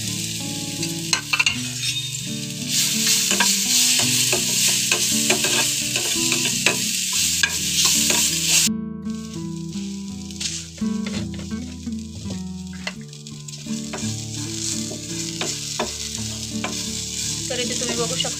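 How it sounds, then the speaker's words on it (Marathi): Grated sweet potato sautés in ghee in a pan. Loud continuous sizzling and stirring run throughout, with background music playing over the cooking. "जे आपण रताळ खिसून घेतलं होतं ते छान असं तुपामध्ये परतून घ्यायचं"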